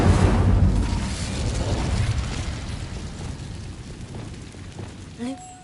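An Incendio fire spell cast in Hogwarts Legacy, a loud roaring whoosh of flame that swells at once and then slowly fades, with a brief voiced sound near the end.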